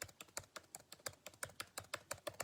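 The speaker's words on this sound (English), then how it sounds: "If you hear my little keyboard going like this" Rapid, fairly even clicking of a computer keyboard, about a dozen crisp keystrokes in quick succession, close and alone with no voice.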